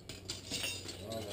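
Metal wrenches clink lightly against each other while tools are sorted in a car repair setting, a few faint, brief clinks over quiet background noise.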